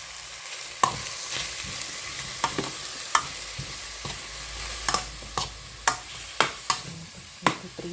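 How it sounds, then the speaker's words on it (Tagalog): Steady sizzle of meat frying in its own fat in a pan for pochero, punctuated by sharp clicks and taps of a utensil stirring at irregular intervals. "Prito na siya ng kanyang sariling taba."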